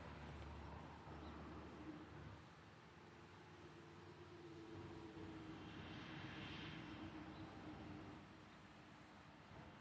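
A Boeing airliner at Louisville's SDF airport gives a steady, fairly loud broadband engine roar that holds for about ten seconds with a slight swell midway, and no voices are heard.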